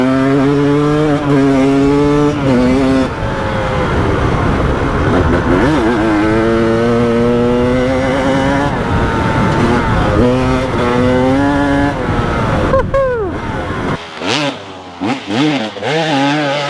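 KTM 300XC two-stroke dirt bike engine revving hard on the pipe, loud and close, its buzzing pitch climbing and dropping through sustained blips before cutting to sharp short revs at the end.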